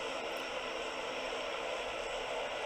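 Steady droning airplane engine inside the PUBG Mobile video game, a continuous broadband roar held at even loudness throughout with no speech.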